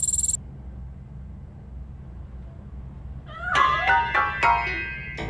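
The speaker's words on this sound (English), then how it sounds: "That cat must be hiding inside." A cat meows while hiding inside a piano in the video game RoboCop: Rogue City, a short burst of several rising, harmonic meows in quick succession after a long quiet stretch over a low background hum.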